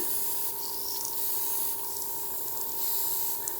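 Airbrush hissing in a steady, light spray as a stencil is followed around the eye socket at a fan convention demo, a continuous soft airy stream with faint mechanical chatter, no talk over it.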